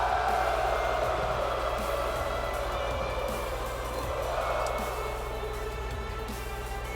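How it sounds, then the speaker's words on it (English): Wrestling crowd at a televised SmackDown event singing along to Shinsuke Nakamura's entrance anthem, a steady massed chant of voices that stays loud and continuous throughout, blended with arena music. "the crowd singing along to Shinsuke Nakamura's anthem"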